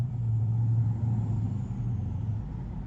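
A 2023 Tesla Model 3 rear-wheel drive cruising smoothly, heard as a steady low road rumble and faint hum from inside the cabin, even and unbroken with no voices.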